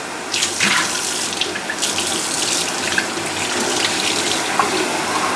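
Tap water runs steadily into a sink while a mason jar is rinsed, a close, continuous splashing rush with shifting gurgles as the container moves under the stream, and nobody speaks.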